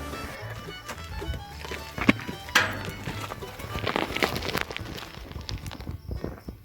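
Horses walk on a gravel road with uneven hoof clops and crunching steps, some louder strikes near, amid faint background sounds.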